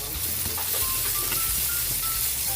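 Garlic and onion frying in a pan for a stir-fried squid dish, a steady close sizzle and hiss with a few light stirring scrapes, no talk over it.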